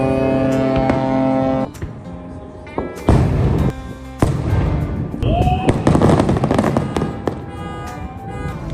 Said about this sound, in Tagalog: Tapos na ang fireworks.